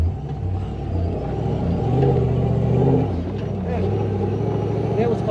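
A supercharged 106 Toyota Hilux on tight tyres labours up a steep sand dune, its engine a loud, close, rising rumble that swells in the middle and stays heavy to the end, mixed with wind and vehicle noise.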